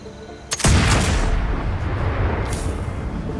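A single loud gunshot from a weapon in the Fallout video game, sharp blast followed by a long rumbling echo that fades slowly, with no voices.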